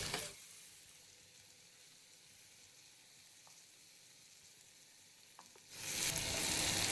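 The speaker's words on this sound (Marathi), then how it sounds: "कांदा छान तेलामध्ये परतूया" Onion pieces frying in hot oil in a home kitchen, a steady soft sizzle held low and even for several seconds before a louder burst of hissing toward the end.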